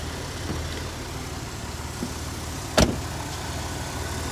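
A used car with 128,000 miles settles into a quiet, steady idle after starting, a low even hum with a sharp thunk of its door partway through.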